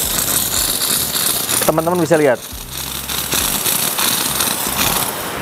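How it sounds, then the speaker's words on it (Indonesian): Steam wand on a compact Retto Blue coffee machine hissing steadily and loudly throughout, a continuous close rushing noise with someone briefly speaking over it partway through. "Mesin sekecil ini steamannya cukup kencang juga ya."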